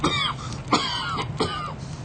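Three harsh, raspy coughs from one person, evenly spaced and close, each with a rough, drawn-out throaty tail.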